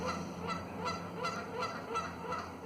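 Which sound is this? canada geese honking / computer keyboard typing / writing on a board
canada geese honking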